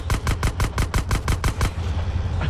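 Rapid burst of about ten evenly spaced gunshots in GTA San Andreas, loud and close, followed by a short fading tail.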